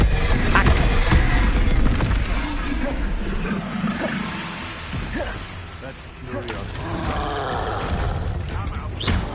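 Spell blasts and impacts in Hogwarts Legacy combat, a dense run of booming, crackling bursts layered over game effects, with a voice calling out spells throughout.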